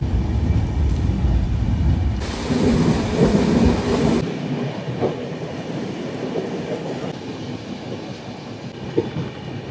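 The Barbil Jan Shatabdi Express from Howrah rumbles along the rails in steady, continuous noise, with heavy rain around it and a surge of louder rushing in the middle stretch.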